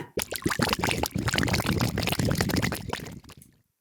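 Thick batter pours and glugs into a pan close up, with a few soft knocks, stopping abruptly near the end.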